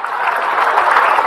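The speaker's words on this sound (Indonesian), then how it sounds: "Tepuk tangan buat Ustaz Syam" Audience at an Islamic religious lecture applauding, a dense, even burst of clapping from a crowd filling the short moment.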